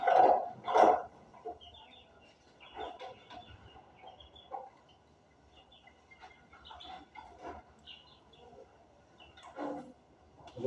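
Farm chickens drinking water mixed with deworming medicine cluck in scattered short bursts, a few louder calls near the start, the rest faint and intermittent against quiet background.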